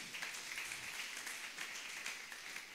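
A church congregation applauding to acclaim the Lord during a prayer and fasting service, a continuous crackle of many clapping hands, distant and soft, with no talk over it.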